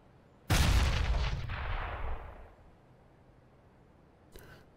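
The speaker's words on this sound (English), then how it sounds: "Grenade out." A single heavy grenade blast from the CS:GO video game booms out with a deep, rolling decay that fades over about two seconds, followed by one faint distant shot.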